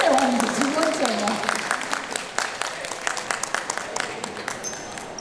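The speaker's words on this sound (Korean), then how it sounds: "다시 한번 큰 박수를 좀 주셨으면 좋겠습니다" Audience applause at a film festival talk event, a steady patter of many hands clapping that starts over a speaking voice and gradually thins out.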